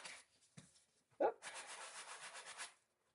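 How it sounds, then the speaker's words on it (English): A small heavy-duty sander runs over embossed two-tone white core cardstock, a steady broadband buzzing rub for over a second after a few short scuffs, fairly close and on its own. "I'm going to take my little heavier duty sander. And when I sand off,"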